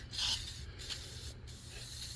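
An aerosol spray can hisses as coating is sprayed onto battery cells, a steady close airy rush with a few brief pauses between bursts, alone without voices.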